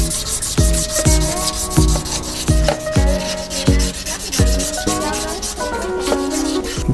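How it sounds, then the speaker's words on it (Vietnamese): Sandpaper rubbing old paint off a Suzuki Winner motorcycle exhaust pipe, a steady scratchy scrub repeated in rhythmic strokes about twice per second, close and fairly loud with no talking. "Chà nhám cho sạch những cái vết sơn cũ nè"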